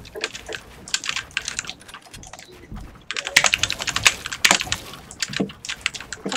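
Rapid typing on a computer keyboard during a live stream, with close, crisp key clatter in irregular bursts that grows louder and denser in the second half.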